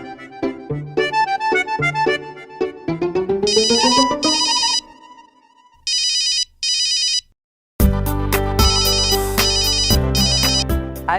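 A mobile phone plays a melodic electronic ringtone, bright chiming phrases in bursts with short gaps, then louder fuller repeats, close and alone without talk.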